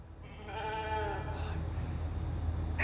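A sheep bleats in the video game The Alters, a wavering, drawn-out bleat up close over a low ambient hum, followed by softer game background sound.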